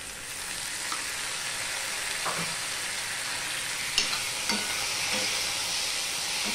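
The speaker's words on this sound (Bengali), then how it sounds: "দিয়ে সম্পূর্ণটা মিশিয়ে নেব, নিয়ে একটুখানি কষিয়ে নেব।" Tomato, green chilli and ginger are stirred and sautéed together in a pan, giving a continuous close sizzle with a few light scrapes and taps of a spatula and no speech.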